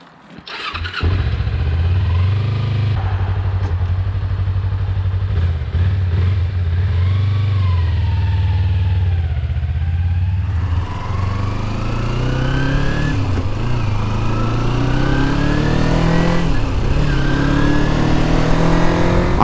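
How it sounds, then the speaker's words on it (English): A 2003 motorcycle on a test ride, its engine note rising and falling through gear changes as it pulls away and cruises, loud and close with steady wind rush throughout. "let's hop on this thing and see exactly how she rides"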